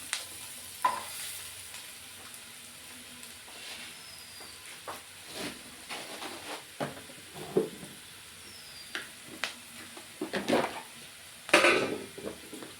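Onions frying and being stirred in a pan for an okra masala curry, quiet sizzling under scattered clinks and scrapes of a spoon against the pan.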